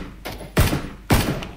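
Two sharp gunshots ring out about half a second apart in PlayerUnknown's Battlegrounds, followed by fainter echoing pops, with game sounds in the background.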